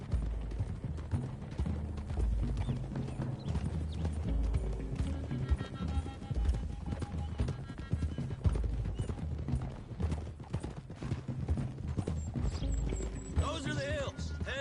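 Horses' hooves clip-clop at a steady trot along a hillside road in the video game Red Dead Redemption 2, with several mounts moving together under continuous background music and a faint whinny near the end.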